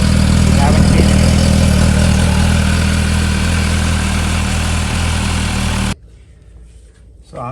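A dense, loud engine roar from an MV Agusta F4 motorcycle runs steadily for about six seconds, then cuts off abruptly, leaving a quiet room.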